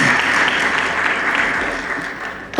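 Dense round of audience applause at a trade summit in Botswana, loud and sustained, tapering slightly before a sharp burst at the very end; no talking.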